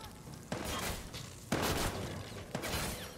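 Gunfire in the game Watch Dogs 2: three sharp, loud shots about a second apart, each followed by a short noisy decay, with no talking.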